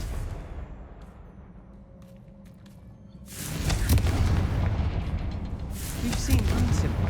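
A Confringo fire spell bursts in Hogwarts Legacy with a sudden loud, booming blast inside a cavern, followed by a sustained rumbling roar that lingers for several seconds.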